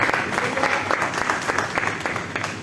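Brief, dense applause fills a church as the congregation claps steadily, a lively crowd sound with no single voice standing out.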